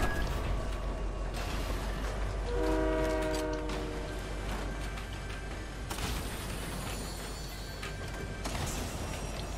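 A train in Fortnite rumbles along with a loud, sustained horn blast in the middle, carried over a constant rolling rail noise that stays close and heavy throughout.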